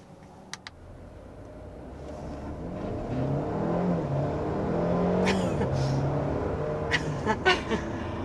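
A 2023 Mercedes GLA 250 accelerating: a steady engine and road drone that swells gradually from inside the cabin, with a few faint clicks and taps over the top and no speech.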